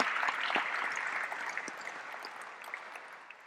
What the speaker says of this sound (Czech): Já myslím, že to chce každopádně potlesk váš za tuhle laskavost.